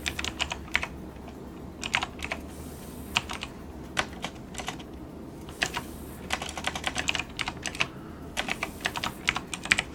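Rapid typing on a computer keyboard, close and clear, coming in uneven bursts of crisp key clicks with short pauses between them and no talking.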